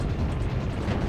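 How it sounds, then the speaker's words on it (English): A flash grenade goes off in Resident Evil 4 on PC, a dense, loud, rumbling burst that fills the short moment with steady roaring noise. "You guys like that upside down flash grenade?"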